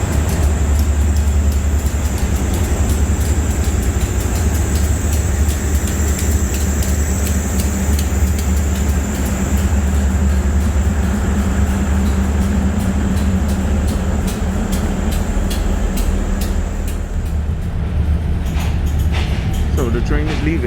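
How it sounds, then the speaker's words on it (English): An SRT train pulls out of Bangkok's Hua Lamphong station, a loud, constant low rumble with rhythmic rattling heard from on board, continuing steadily throughout. "So the train is leaving and it's exactly on time."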